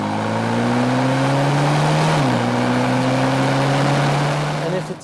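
A 2020 BMW M135i xDrive hot hatch launches hard from a standstill, its engine droning loud and close as it pulls through a gear change and keeps climbing.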